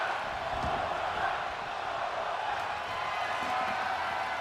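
A wrestling arena crowd in the video game WWE 2K25 roars steadily at a Starrcade event in Atlanta, a dense, sustained wash of cheering at even volume with no clear breaks.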